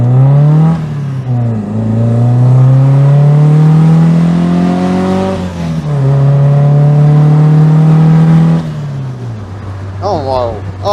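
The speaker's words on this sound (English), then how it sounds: "I've never driven an MGB that revs like this before" A modified MGB sports car engine revs hard and climbs in pitch through the gears, loud and close, with a brief drop between pulls and a lift-off near the end.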